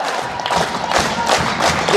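A high school basketball crowd in a gym roars and cheers after a three-pointer, a loud sustained wash of voices with swelling shouts and a few thuds.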